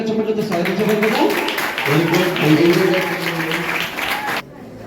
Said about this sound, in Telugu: ముందు ఆయనకి మనం గట్టిగా చప్పట్లతో స్వాగతించగలుగుతాం.